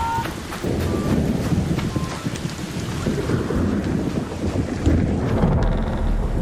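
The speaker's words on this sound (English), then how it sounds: "an electromagnetic storm is currently raging over topside" Storm wind roars steadily in Vampire: The Masquerade – Bloodlines 2 during an electromagnetic storm with lightning strikes, a loud broadband gusting rush with rain-like hiss and low thunderous rumble throughout.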